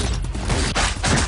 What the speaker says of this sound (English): Yes, it is the shootout. Gunshots going off,